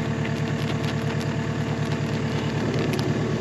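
Forestry mulcher running in thick kudzu overgrowth, its engine droning steadily while the drum spins freely with nothing to cut, a close, even, pulsing hum that stays at one pitch.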